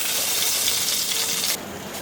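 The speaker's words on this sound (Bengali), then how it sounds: "নামানোর আগে শুধু একটু জিরা বেটে দেবো, তাই জিরাটা ভেজে নিচ্ছি।" Cumin seeds dry-fry in a pan, a close, steady bright hiss of sizzling that drops abruptly in intensity near the end of the short stretch.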